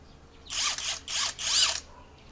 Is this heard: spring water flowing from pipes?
no